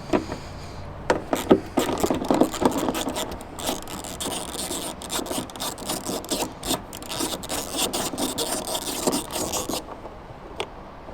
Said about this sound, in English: So I'm going to use a ratchet and just back that one out and the other one out.